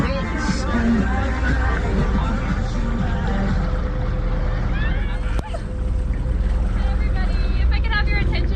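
A hot tub boat's engine drones steadily throughout on a New York/New Jersey harbor tour heading to the marina, mixed with wind and a background babble of people talking.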